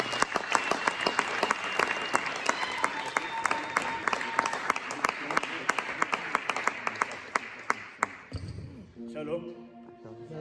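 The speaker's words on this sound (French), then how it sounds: "nous allons acclamer pour la gloire de Dieu." A church congregation at a Sunday service bursts into applause, with sharp claps and crowd noise filling most of the stretch before fading into quieter room sound at the end.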